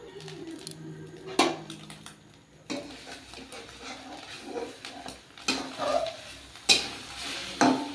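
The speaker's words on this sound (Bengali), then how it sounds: "বাসন পড়ছে, বাসন" Metal dishes and utensils in a home kitchen clank and clatter in several sharp, irregular knocks against a quiet background, with no talking.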